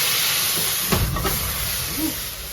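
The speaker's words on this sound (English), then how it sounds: "we're ready to deglaze the pan. Got some brandy in here" Brandy hitting a hot pan of smoked short ribs gives a loud, steady sizzling hiss that rolls on throughout, with a few brief crackling bursts partway in.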